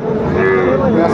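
A young bull calf gives a single sustained, loud moo close by at a busy cattle market in Ambari, Dinajpur, with crowd noise behind it.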